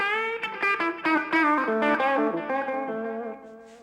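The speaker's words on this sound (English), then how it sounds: "when I think of a clean blues sound, I think of something like" A clean electric guitar plays a short blues phrase, with plucked notes ringing and bending, a gentle lick that sustains and fades.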